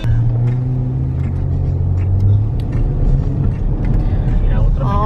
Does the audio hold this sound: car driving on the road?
yes